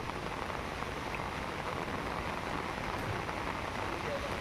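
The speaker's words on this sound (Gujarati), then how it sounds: "ભારે વરસાદ ખાબકતા ચોતરફ પાણી થઈ ગયું." Heavy rain pouring down in a steady, dense wash of noise with no breaks, moderately loud and even throughout, with no clear voices above it.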